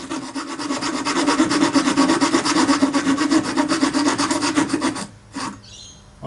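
A child works a hand saw through wood, the rasping strokes steady and close for about five seconds before stopping, followed by a brief scrape and a faint high ring.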